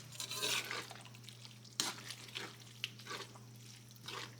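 Tomato, beans and beef simmering in a pan for dinner, giving a soft, steady bubbling sizzle with occasional stirring clinks and drips, close and fairly quiet over a low constant hum.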